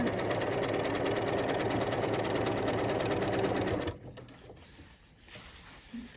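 A sewing machine stitches straight up the middle of an upcycled denim jacket in a dense, fast, steady run for about four seconds, then stops abruptly, leaving faint handling noises.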